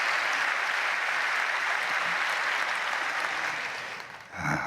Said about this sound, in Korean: 여러분 다시 한번 크게 박수로 우리 감사를 표할까요?